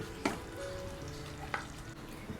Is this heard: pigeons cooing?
no